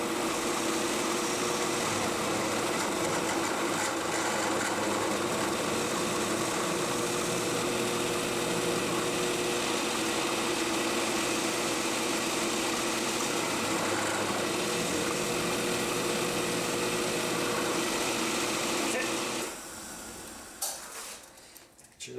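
A milling machine cutting with a carbide end mill gives a steady, dense, high-pitched whine and chatter for about twenty seconds, then abruptly stops, leaving quieter clatter.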